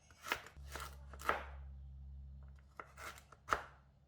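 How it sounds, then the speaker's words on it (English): A knife chops galangal into smaller pieces on a board for chicken rendang: a handful of sharp, separate cuts spaced irregularly, with a low steady hum underneath. "Remove the dark spot from the galangal. Cut half of it into smaller pieces"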